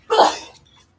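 A single sharp sneeze, a quick loud burst that trails off into a soft breath.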